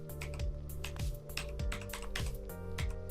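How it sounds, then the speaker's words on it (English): Loud, rapid typing on a Koolertron Z-77 mechanical keyboard, with dense clacking keystrokes running steadily and close by with no one talking. "because the typing is pretty loud, so as you can hear"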